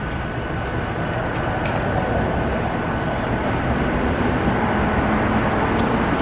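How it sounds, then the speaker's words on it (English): Steady city traffic rumbles on a busy roadway near an outdoor seating spot, a dense continuous wash of engine and tire noise with faint higher chirps scattered over it. "City sounds, traffic sounds."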